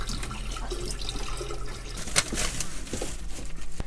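Water rushes steadily into a boat's engine cooling system through a saltwater filter, a continuous close splashing flow with one brief louder gush partway through.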